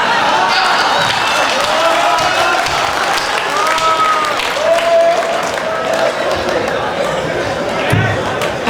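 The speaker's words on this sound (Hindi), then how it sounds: "आगे बहुत सारे लोगों ने कूट के तालियां बजाई है" Audience applause at a kavi sammelan poetry event at the Jalbihar fair, a dense steady wash of clapping and crowd noise lasting throughout, with scattered voices and whistles over it.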